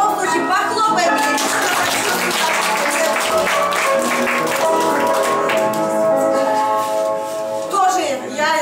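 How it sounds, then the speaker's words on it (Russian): Sustained audience applause at the opening of a black-and-white portrait photo exhibition, dense steady clapping from a crowd lasting several seconds with music playing underneath, fading slightly at the end. "Ну давайте в любом случае похлопаем ей."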